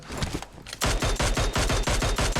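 Rapid automatic gunfire in the mobile battle-royale shooter PUBG Mobile, a loud burst of evenly spaced shots following a quieter stretch of scattered fire, with no talking over it.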